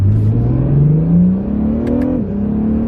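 A 2017 Acura NSX pulls away from a 15 mph rolling start in first gear. The engine note climbs steadily in pitch as the car accelerates, loud and close.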